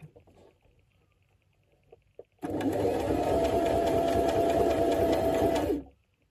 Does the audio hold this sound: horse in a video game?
no